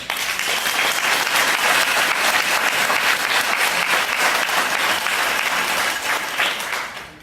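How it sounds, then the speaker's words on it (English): A room full of people applauds at a recruiting talk, giving a dense, steady round of clapping that holds for several seconds before tapering off. "give them a round of applause"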